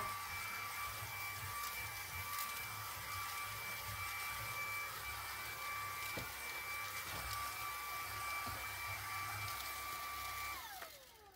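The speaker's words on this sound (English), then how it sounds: "use the brush head alone without the connection rod, and to suck up majority of the sand in the trunk" A Moosoo K23 cordless vacuum fitted with only its brush head sucks sand from a car trunk, producing a steady, close, high-pitched motor whine with occasional gritty crackles, then winding down at the end.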